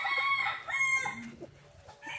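A gamecock rooster from a game farm crows loudly and close in one long drawn-out call that trails off, with faint background noise and no clear talking.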